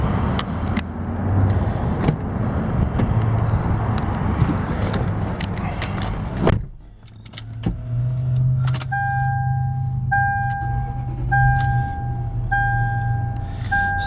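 A 2004 Lexus GX 470 4x4 with 268,000 miles, heard from inside the cabin. A steady engine rumble gives way to a brief lull, then the engine settles into a smooth idle while a repeating electronic warning chime sounds over it.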